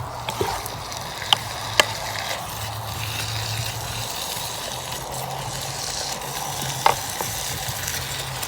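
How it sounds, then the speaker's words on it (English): Sliced red peppers sizzle and crackle steadily in a hot frying pan, a continuous close fry with a few sharp pops and clinks of stirring, no one speaking. "And at the same time adding my sliced red peppers."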